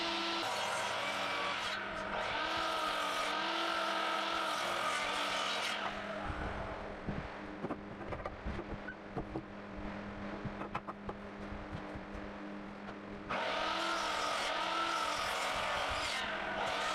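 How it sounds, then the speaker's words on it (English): A circular saw cuts timber frame joinery for a shed: two long, loud spells of whining blade through wood separated by a quieter stretch of knocks and handling noise. "I then use the skill saw to make the remaining cuts"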